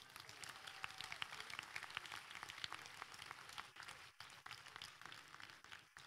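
At an indoor school Founder's Day event, an audience gives quiet, moderately dense applause with a few sharper individual claps standing out. The clapping stays faint and somewhat distant and briefly dips partway through.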